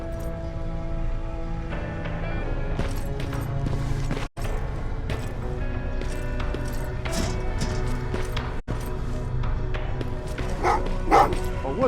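A dog in the Terminator Resistance video game barks and yips repeatedly amid a tense musical score, the barks rising in clusters and growing more insistent toward the end.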